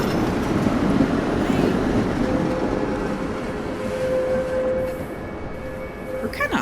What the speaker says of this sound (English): Cute little train.